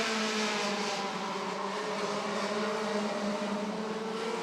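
Short track race cars roar around Rockford Speedway in an 8-lap heat race, a dense, continuous engine drone with slowly shifting pitch, loud and unbroken, with no talking.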